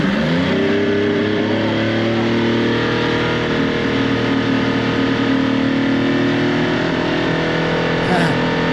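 An Evinrude 150XP outboard motor suffering a loss of power drives a McKee Craft boat, its engine droning steadily and loud with sustained tonal harmonics and a slight rise in pitch throughout.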